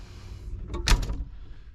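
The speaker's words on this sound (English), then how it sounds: "If I close this door right here," The door of a 1961 Imperial car swings shut with a single moderate latch thunk and a short rattle, heard up close in a quiet space.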